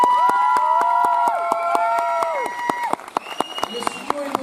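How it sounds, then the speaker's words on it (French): Crowd at a gala show applauding and cheering, with dense clapping and sustained shouts and whistle-like tones at first, thinning into scattered louder claps and voices toward the end. "Vous pouvez les applaudir très très très fort."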